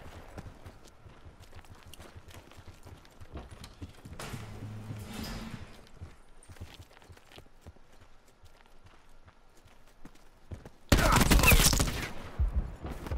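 Gunfire in the Black Ops 4 battle royale game, a sudden loud burst of shots near the end after quieter game sounds and footsteps, with speech earlier.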